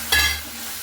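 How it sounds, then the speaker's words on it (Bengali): A sharp burst of sizzling as a splash of water meets spices frying in a pan for a Bengali shol fish curry, flaring loudly then settling into a steady softer hiss. "মশলা বাটিটা বুলিয়ে একটু জল দিয়ে দিলাম।"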